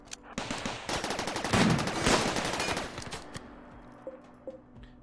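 Turret gunfire in the RimWorld video game, rapid automatic bursts of shots building into a dense fusillade before thinning to a few scattered pops, loud and close, with no talking.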